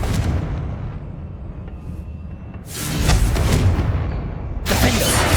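Confringo blasting spells go off in Hogwarts Legacy, two broad booming explosions a couple of seconds apart, each a loud rushing burst that decays into rumble, with no talking heard.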